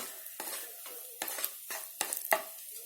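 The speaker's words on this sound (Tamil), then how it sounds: "முந்திரி பருப்பு பாதி வறுபட்ட உடனே அதுக்கப்புறமா திராட்சை போடுங்க. திராட்சை சீக்கிரம் வறுபட்டுரும், கருகி போயிடும்." Cashews and raisins fry in a pan for milk payasam, a steady sizzle broken by about six sharp stirring and scraping strokes of a spoon against the metal, close and clear with no talking.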